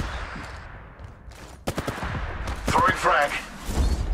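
Gunfire in the video game Apex Legends Mobile: rapid bursts of shots, loud and close, mixed with game effects and a character voice calling out.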